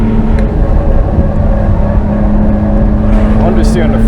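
A bagged BMW E34 with a swapped S52 engine runs hard through a hot lap at Willow Springs, a loud, close, sustained engine roar with a steady pitch and a brief higher whine near the end.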